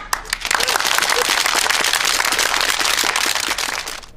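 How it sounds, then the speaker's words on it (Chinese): An audience at a televised university debate competition breaks into loud, dense applause, a crackling burst of many hands clapping close and full that holds steady for about four seconds before easing off slightly at the end. "鼓掌。"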